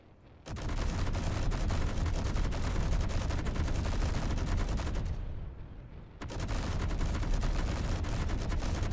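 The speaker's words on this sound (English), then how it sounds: "just watch what happens with the flight deck when I shoot at it" Sustained heavy gunfire aimed at an aircraft carrier's flight deck in a video game, loud continuous automatic bursts that stop briefly and then resume.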